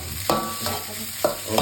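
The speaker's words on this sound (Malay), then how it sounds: "Ini kuali itu kena hentak kuat sikit lah." Metal clanks and scrapes of a spatula against a wok repeat every half second or so over a low, steady sizzle of fried rice stir-frying.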